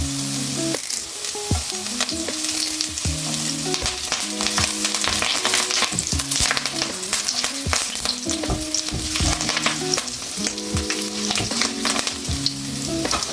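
Curry leaves crackle and sizzle in hot oil for a long stretch, a loud dense frying hiss peppered with sharp pops and frequent stirring scrapes, close and uninterrupted by talk.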